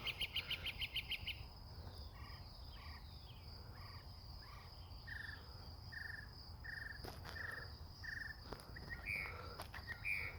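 A mockingbird sings outdoors in a steady run of repeated chirping phrases, each a short burst of several quick notes, set against a constant chorus of crickets and insects with no talking.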